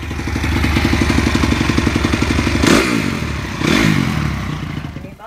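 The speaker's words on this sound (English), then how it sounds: "I wanted to show you guys what my bike sounds like" A motorcycle engine runs steadily and close by, with a brief surge and clatter near the middle and again shortly after, then trails off at the end.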